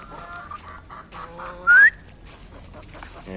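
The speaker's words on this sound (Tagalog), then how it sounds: "Magpapakain tayo ng mga manok natin dito." Chickens, including Rhode Island and Black Australorp, cluck in short soft bursts nearby at feeding time, with one sharp rising whistle cutting in partway through.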